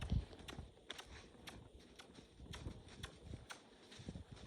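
Horse hooves during a riding training session, a close, regular clip-clop of steps at a steady walking or trotting rhythm, fairly quiet, with faint background sounds.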